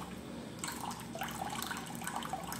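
A hydrogen water dispenser releases a stream of 35-degree water, a faint, steady splashing pour that starts about half a second in and runs to the end with no voices.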